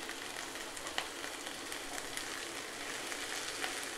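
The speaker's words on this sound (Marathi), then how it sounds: "हे सुद्धा आपण छान परतून घेऊया 1 मिनिटापर्यंत" Tomato and peas sauté in a pan for upma, giving a steady, quiet, even sizzle with faint crackles and no talking.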